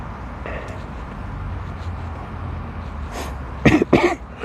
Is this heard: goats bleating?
no